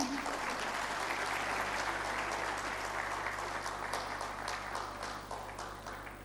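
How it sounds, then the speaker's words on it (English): A summit audience at the 2nd Lahore Management & HRD Summit 2010 claps steadily in dense, sustained applause that fills the hall and slowly thins toward the end, over a low constant hum. "Clap your hands, everybody, come on."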